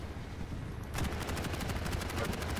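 Upgraded machine gun in Quake Champions firing a sustained rapid burst of close, loud shots that starts abruptly after a brief quieter moment and rattles on to the end.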